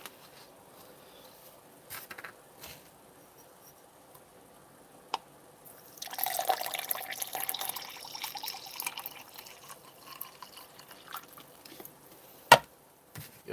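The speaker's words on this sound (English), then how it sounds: "All right, put some water to this thing." Water is poured into an MRE ration pouch, first a few quiet clicks and rustles, then a noisy stretch of splashing and gurgling liquid that fades out, with a sharp knock near the end.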